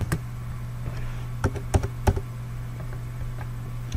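Computer keyboard typing while entering code for a Java Maven project in NetBeans 11.1, with scattered keystrokes that cluster into a short burst in the middle over a steady low hum.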